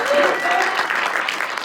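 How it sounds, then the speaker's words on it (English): Brief burst of audience applause at a live corporate mentalism show, many hands clapping steadily at moderate volume for under two seconds, with a voice briefly over it. "All right, round of applause."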